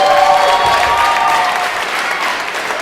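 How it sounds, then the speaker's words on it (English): Audience applause for the judges at a community talent show, a dense, steady burst of clapping from a crowd that stays loud and slightly eases toward the end. "A round of applause for the judges, please."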